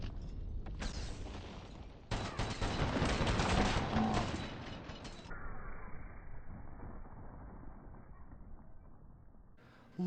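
Gunfire in the Black Ops 3 shooter game, heard as a dense, busy stretch of shots and clattering action that swells in the middle, then drops to quieter muffled game ambience, with no talk over it.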